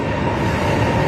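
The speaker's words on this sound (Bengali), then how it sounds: "আমরা এখন ট্রেনে উঠব, এই সেই বুলেট ট্রেন" Interior of a high-speed bullet train at Nanjing South station gives off a steady, loud broadband rumble with low mechanical drone, continuous throughout the short moment with no distinct clacks.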